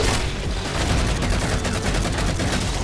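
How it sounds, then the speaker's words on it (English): Battle rifle gunfire in the online shooter Halo 4 crackles in dense, rapid bursts, loud and continuous throughout the short stretch with no talking over it. "he got me with that battle rifle"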